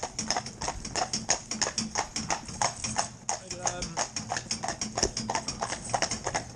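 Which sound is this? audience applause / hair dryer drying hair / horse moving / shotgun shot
horse moving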